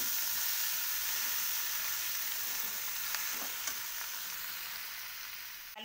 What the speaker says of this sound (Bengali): আলু কপি আর মশলাটা ভাজার একটা খুব সুন্দর গন্ধ বেরিয়েছে।